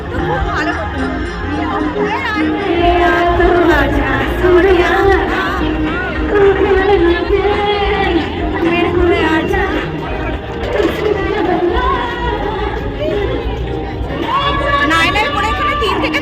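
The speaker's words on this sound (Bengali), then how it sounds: "নাইনের পরে এখানে 3 থেকে 4 লাখ মানুষ এসেছে, আজকে এত ভিড় হয়েছে" A huge festival crowd at the Sodepur Panihati fair creates dense, continuous babble and chatter with overlapping voices, shouts and lively background sound throughout.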